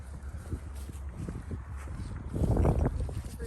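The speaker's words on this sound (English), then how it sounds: "It's still really windy." Strong wind gusts through a garden of tropical fruit trees in Louisiana, buffeting the microphone with a rough, rumbling roar that swells louder toward the end.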